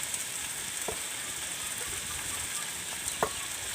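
Chicken sizzles and fries steadily in a hot pan as spices go in for a Bengali-style chicken jhol, with a couple of faint stirring clicks over the constant close hiss.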